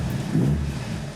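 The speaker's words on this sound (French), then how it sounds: "Tu entends le 4 cylindres parfait, un tout petit moteur, mais très bien balancé." A small, well-balanced four-cylinder engine in an Italian car runs at a steady idle nearby, a low, even rumble with no voices.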